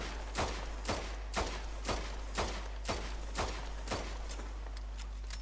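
Rapid pistol fire from Midnight's pistol in Red Dead Redemption 2, about nine sharp shots in a steady quick rhythm over a low constant hum, loud and close with no talking.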